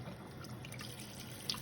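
Alkaline water runs from a tap while sea moss is rinsed of salt, a quiet steady splashing stream with small drips and one brief splash near the end.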